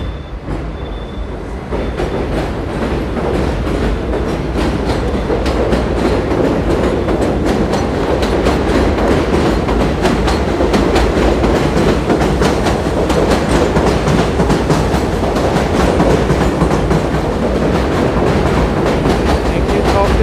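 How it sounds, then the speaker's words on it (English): A train rolls past on the rails in a Brooklyn neighborhood, a loud, steady rumble with clickety-clack wheel noise and faint squeal running continuously, starting a little softer and then holding at full level. "Sounds like there's a train already."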